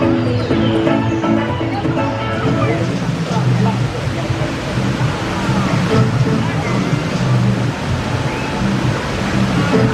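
Water rushing and splashing on the Congo River Rapids ride at Alton Towers, a loud continuous churning wash with sloshing surges, with people talking and calling out over it.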